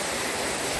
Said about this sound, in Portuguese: E aqui é na cachoeira